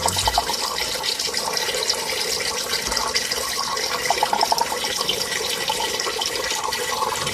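Water drains steadily through the drain of a barrel aquaponics system, a continuous near gurgling rush that holds constant throughout with no talk.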